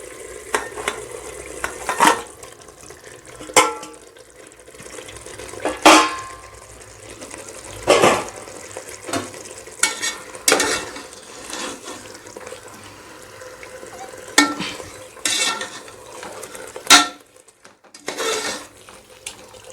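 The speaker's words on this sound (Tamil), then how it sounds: "இந்த ஸ்டேஜில் நம்ம கோழிக்கறியை சேர்த்து நல்லா கிளறி விட்டுக்கலாம்." Chicken being stirred into oily biryani masala in a pot for Thalappakatti-style biryani: wet sizzling squelches under a spoon, broken by sharp scrapes and clanks at uneven intervals, close and without talk.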